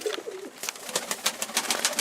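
Soft pigeon coos from a game pigeon in a loft, a low warbling call in the opening half followed by a run of rhythmic wingbeat-like flutters and shuffling, close and moderately loud.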